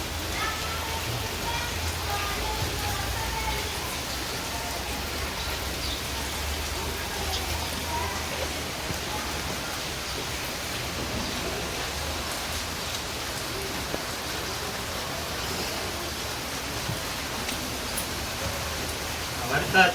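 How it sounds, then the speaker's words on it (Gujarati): Heavy rain pours steadily in a village setting, a dense even hiss of falling water that holds constant throughout, with a voice speaking faintly beneath it. "વરસાદ છે બહુ"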